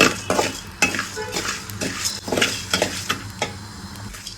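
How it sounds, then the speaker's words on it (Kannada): Coriander seeds fry in a pan while a spoon stirs and scrapes them, giving repeated clinking metal strokes over a soft sizzle, close and alone. "ಧನ್ಯಾ ಹುರಿದ್ಮೇಲೆ ಚೆನ್ನಾಗಿ ಸ್ಮೆಲ್ ಬರೋಕ್ಕೆ ಸ್ಟಾರ್ಟ್ ಆಗುತ್ತೆ ಅಲ್ಲಿವರೆಗೂ ಫ್ರೈ ಮಾಡ್ಕೊಳ್ಳೋಣ"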